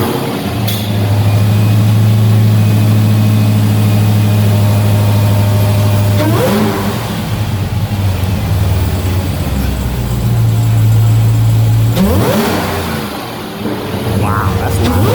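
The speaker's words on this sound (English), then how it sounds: "this is the first startup" Dodge Hellcat V8 with a modified intake starting for the first time: a loud, close, deep rumbling idle that surges into sharp revs twice, with people talking over it.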